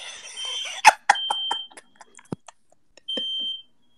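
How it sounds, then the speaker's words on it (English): A smoke alarm goes off indoors, sharp piercing beeps in a broken pattern with a sustained tone at the end, loud and close with brief sounds between. "Hey, the smoke alarm going on, bro."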